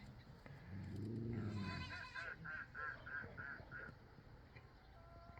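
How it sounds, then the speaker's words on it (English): Ducks quack in a rapid run of calls on a farm, fairly distant and mixed with other farmyard animal sounds under an overcast sky, with a low bleat or moo near the start. "Noisy ducks down there."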